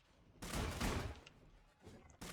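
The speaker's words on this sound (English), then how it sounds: "the chip gun, which is basically like a more powerful version of the spud gun" The chip gun in the video game Scrap Mechanic, a stronger cousin of the spud gun, fires in a dense burst of rapid rattling shots, followed by a brief lull and the start of another burst.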